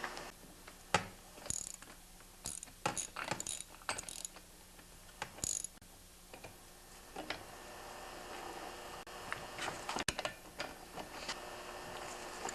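Chainsaw clutch on a Stihl MS 180 being tightened with a ratchet: quiet rapid clicking pawl bursts in uneven runs, with brief pauses and a few sharper clacks of metal, close and faint.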